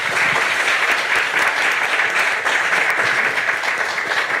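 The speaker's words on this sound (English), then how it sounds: "please join me with a round of applause for our panel" A summit audience at the ITU AI for Good Global Summit 2018 applauds a panel: dense, loud, sustained clapping from a large crowd, even and continuous with no voices above it.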